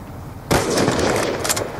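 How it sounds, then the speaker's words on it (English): A Death Machine minigun in Black Ops 2 opens up with a sudden loud burst of sustained rapid fire that continues to the end after a brief quiet lead-in. "Death machine spinning up"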